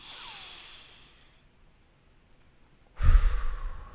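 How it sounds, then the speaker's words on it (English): A slow, deep breath taken as a calming exercise between golf shots. A soft, airy breath fades into near silence, then a louder, close exhale follows. "do deep breathing between the shots and just nice deep breaths in"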